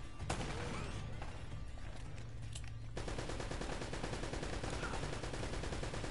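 Gunshots fired at a barrel in Uncharted, with sharp scattered cracks early on, then a sustained rattling stream of rapid fire; steady and moderately loud, no speech.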